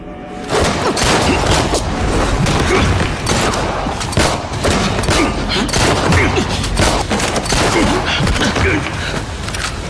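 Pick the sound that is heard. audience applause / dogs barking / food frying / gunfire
gunfire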